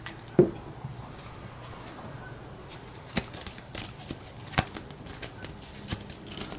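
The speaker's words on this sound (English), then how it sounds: "We'll shuffle these up." A deck of game cards is shuffled on a tabletop with soft rustling and a series of sharp riffle snaps spaced a second or so apart, close and fairly clear.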